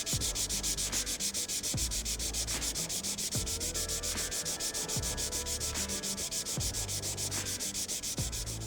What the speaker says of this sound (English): I'm gonna remove all those 240 grit scratches.